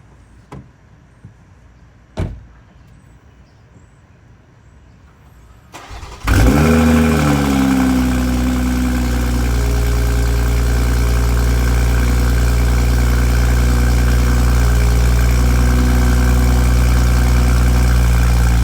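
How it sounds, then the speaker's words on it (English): After a few faint clicks and a brief crank, a car engine with a check engine light fault fires up from cold and settles into a loud, steady high idle. "let's hear the cold start"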